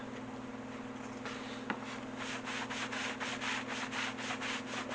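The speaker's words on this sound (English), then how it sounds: "Take a microfiber cloth, start buffing this." A microfiber cloth buffs a stamped, dyed leather guitar strap in soft, rhythmic rubbing strokes that grow steadier toward the end, quiet and close over a low electrical hum.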